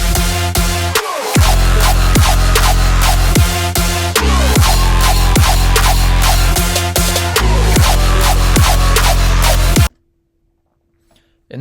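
A hybrid trap track produced in Ableton plays loud, with heavy booming sub bass, punchy repeated drum hits and buzzy synths for about ten seconds, then cuts to near silence with a faint tone.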